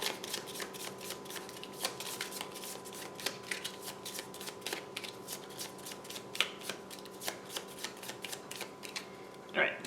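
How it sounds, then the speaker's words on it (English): A deck of game cards for the Blight Chronicles: Agent Decker board game is shuffled, a long run of crisp riffling clicks and snaps near and steady, with a person's voice faintly underneath. "So we're going to shuffle."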